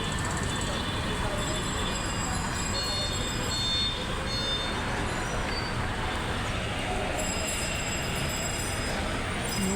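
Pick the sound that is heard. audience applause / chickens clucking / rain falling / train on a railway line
train on a railway line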